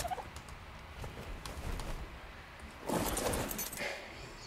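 A bird in the video game ARK gives a brief gobbling, fowl-like call near the end, loud and close over a low background rumble.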